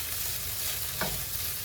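Steady close sizzle of plant-based food frying in a pan on a stovetop, with a brief scrape of stirring partway through and no voices.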